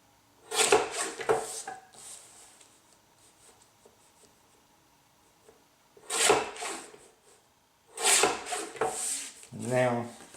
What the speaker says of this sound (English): I'm just going to trim the excess off real quick.